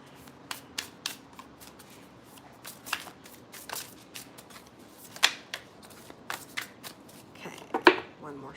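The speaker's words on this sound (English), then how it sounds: "One more shuffle." Tarot cards being shuffled by hand in a quiet room: a run of crisp riffling snaps and slaps, irregular and close, with brief pauses between bursts and no one speaking.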